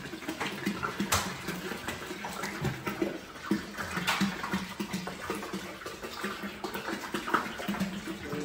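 Water pours steadily from a can into a home aquarium tank, a continuous splashing gush that stays fairly loud and even for the whole stretch with no talking.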